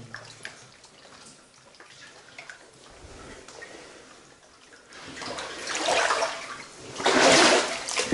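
Water pouring and rushing into an old tunnel from the 1880 Channel Tunnel attempt, a quiet trickle at first that swells into a louder gushing flow near the end.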